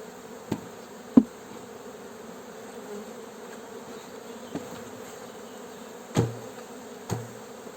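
Honeybees hum in a steady swarm drone as a small nucleus hive is shaken, broken by a few sharp knocks and thumps from the wooden box.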